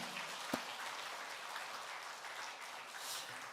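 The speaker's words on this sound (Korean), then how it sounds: "여러분 축하의 박수, 축복의 박수 한번 드리겠습니다" A church congregation claps in congratulation for a child, producing a soft, fairly distant and even patter of applause with one sharper knock near the start.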